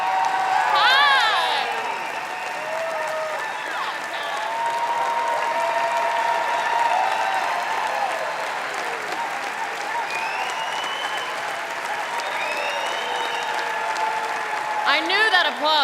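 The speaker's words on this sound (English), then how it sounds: "I knew that applause was not for me." A large summit audience applauds and cheers, sustained loud clapping with whoops and high shouts rising over it, and voices mixed in throughout.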